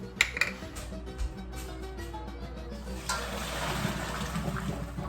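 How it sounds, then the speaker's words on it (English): Starchy pasta water splashes from a pot into tomato sauce in a home kitchen, a few clinks at first, then a sustained close gurgling pour for about two seconds, with quiet handling noise and no speech. "I'm gonna get about 1/4 cup of pasta water and add that to my sauce"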